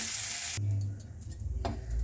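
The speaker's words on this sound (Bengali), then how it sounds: "এবার ফোড়নে দেব কালো জিরে," Black cumin seeds and green chili drop into hot oil for tempering, a brief burst of hissing sizzle that quickly settles into a quieter crackle, with a faint clink partway through.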